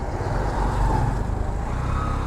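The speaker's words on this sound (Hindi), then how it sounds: "आगे से बहुत सारी गाड़ी आ रही है" On a mountain road near a tourist spot, oncoming cars and other traffic roll past in a steady, dense engine and tire rumble, moderately loud and continuous.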